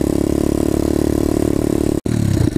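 A new dirt bike's engine roars loudly and steadily close by, accelerating linearly with a throaty drone, with a brief cut near the end before picking up again.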